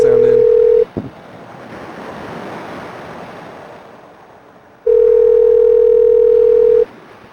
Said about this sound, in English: We can just let it ring for a long time and see if they ever answer.